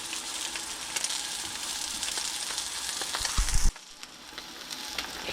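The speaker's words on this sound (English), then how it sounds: "our salmon has been in the pan for about 3 or 4 minutes" Salmon sears in a hot pan, a close bright sizzle that runs steadily, swells briefly with a clatter near the end, then drops to a quieter hiss.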